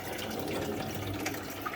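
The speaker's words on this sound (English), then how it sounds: "it's certainly flushing and not leaking" A toilet flushing through its flush pipe during a plumbing check, a steady rushing of water running close and loud for the whole stretch, with no talk over it.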